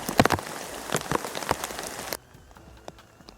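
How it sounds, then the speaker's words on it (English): Heavy rain pours steadily in the Australian wilderness with sharp drops spattering close by, then drops abruptly to a much quieter patter of scattered drips. "and heavy rain."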